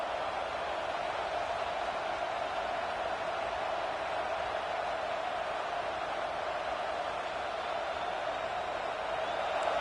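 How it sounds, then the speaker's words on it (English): A football stadium crowd during an FSU versus Tennessee game rumbles as a broad, steady roar, distant and continuous, swelling to rouse the defense without any distinct cheers standing out. "this crowd coming to life here, trying to help the defense get a stop"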